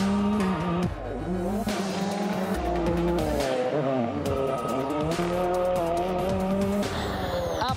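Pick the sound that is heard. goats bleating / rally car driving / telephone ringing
rally car driving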